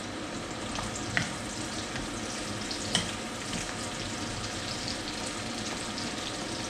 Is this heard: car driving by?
no